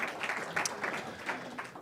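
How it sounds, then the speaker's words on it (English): Brief round of audience applause for free thought at a Sunday talk on ethics and animal agriculture, soft and somewhat distant, a short patter of claps. "Can everybody give a round of applause for free thought"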